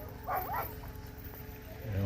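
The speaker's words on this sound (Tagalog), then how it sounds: "Yan yung mga aso niya." Sled dogs outdoors in Ilulissat, Greenland give a short, whiny yelp early on, then fall quiet against a constant background rumble.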